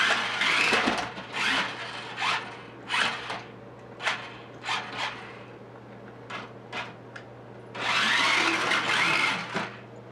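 Tyco RC Scorcher 6x6 toy truck driving indoors, its small electric motor whining in repeated bursts that rise and cut out, with a long sustained run near the end and a steady low hum underneath.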